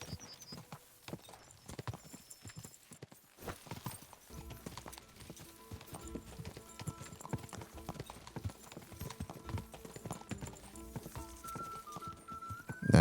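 Horse hooves gallop hard in a race in the Kingdom Come: Deliverance 2 video game, a fast rhythmic clip-clop that starts after a few quieter seconds and keeps pounding close by.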